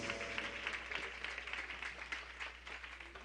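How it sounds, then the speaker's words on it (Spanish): Applause from a congregation in a church, a dense wash of many hands clapping continuously at moderate distance with no break. "Ahora sí, haya fuertes aplausos al Rey de Reyes, Señor de los Señores"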